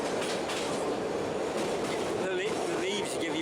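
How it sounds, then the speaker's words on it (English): Narrow gauge tram running through orange groves between Soller Port and the old town on Mallorca, a steady rumbling rail noise with wheel clatter and a faint squeal throughout, with voices partly audible over it. "The tram runs a 5-kilometre route between Soller Port and the old town."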